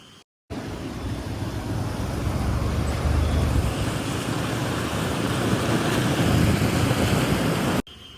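Road traffic near a check post on a wet, rainy highway, a broad continuous roar of tyres and engines swelling slightly midway, steady and close with no speech.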